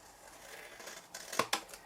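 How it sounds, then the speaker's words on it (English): Two quick, crisp snips of large scissors cut through quiet rustling near the end, close and sharp. "Get your big scissors, angle it up, line it up, and chop."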